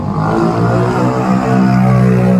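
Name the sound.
big bike motorcycle engine revving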